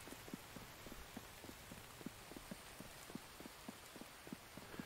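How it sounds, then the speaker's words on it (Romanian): Rain falls outside in the survival video game The Infected, a steady faint hiss with soft rhythmic drips pattering throughout. "Dar bine că afară plouă."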